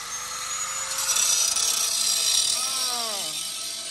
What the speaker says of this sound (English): so he's using a grinder.